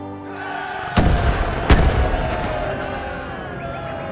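Two heavy cannon booms from Age of Empires 3 artillery land close together, followed by a rumbling battle din.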